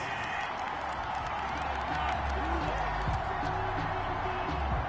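A crowd in Madden 21 reacts angrily to a pass interference call, a broad stadium roar and murmur under a commentator's voice, with scattered shouts throughout.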